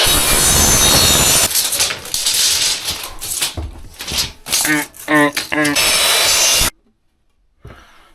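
A power saw set at 45 degrees cuts through wood in loud, grinding bursts with a coarse rasping texture, stopping abruptly into near silence before a brief final noise.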